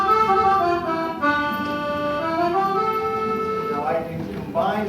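A synthesized musette accordion tone holds sustained, reedy chords for several seconds, then fades into a short shift at the end.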